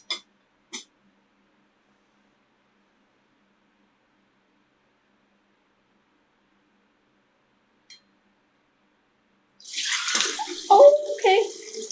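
Homemade fire cider with chili and apple is poured from a pot through a canning funnel, a splashing liquid pour that starts near the end after a long quiet stretch.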